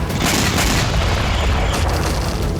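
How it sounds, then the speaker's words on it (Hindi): Heavy bombing at Kursk: loud, deep booming blasts and rumbling bursts crowding together, close and overwhelming, with crackling debris in the upper range and no clear gaps. "कुर्स्क पर भारी बमबारी की जा रही है"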